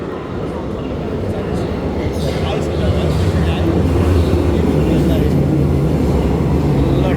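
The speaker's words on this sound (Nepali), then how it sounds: "ट्रेन आउँदैछ" An underground metro train pulls into a station, a loud continuous low rumble that swells and grows steadier as it nears, filling the platform with dense rolling noise and faint background voices.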